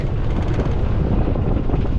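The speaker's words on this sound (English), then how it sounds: "Now the wind's starting to pick back up." Strong wind picking up ahead of storms roars across the microphone in a dense, continuous rumble, loud and unbroken for the whole stretch.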